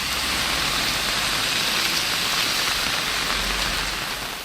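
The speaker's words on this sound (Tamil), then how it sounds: "பலத்த காற்றுடன் கனமழை கொட்டியது" Heavy rain pours steadily, driven by strong wind over rural areas of Ulundurpettai in Kallakurichi district, Tamil Nadu, a loud, dense hiss that holds unbroken throughout without any voices.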